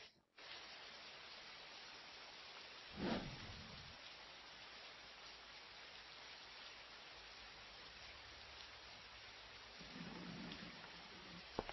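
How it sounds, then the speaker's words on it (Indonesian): Heavy rain pours in a constant dense hiss, with a sharper burst of splashing or a gust early on and a swelling rumble near the end. "Hujannya deras sekali."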